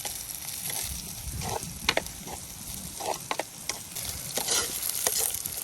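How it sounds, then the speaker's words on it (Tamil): Tempering spices crackle and sizzle steadily in hot oil in a frying pan nearby, with a few sharp pops and occasional clinks of a stirring utensil, while cooking cowpea curry. "இப்போ அதான் தாளிக்க போனேன்"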